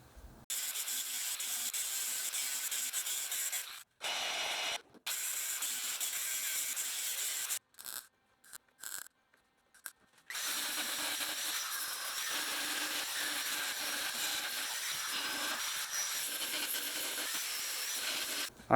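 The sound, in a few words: grinding down lead filler on car body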